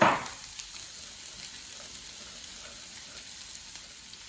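A roux of melted margarine and flour cooks in a pan with a soft, steady sizzle and faint crackle, after a brief louder scrape at the start.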